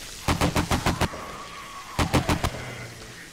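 Big-gun automatic fire in the 7 Days to Die game, two quick bursts of about six and five loud evenly spaced shots separated by a short pause.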